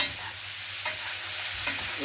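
Steady, soft crackling and hissing of pork belly frying in a pan, continuous and close, with faint stirring scrapes.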